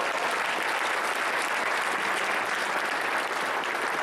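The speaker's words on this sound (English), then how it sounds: "So let's give a round of applause for Brittany." A conference crowd at a hackathon opening ceremony breaks into dense, sustained applause, loud and even from start to finish with no voices standing out.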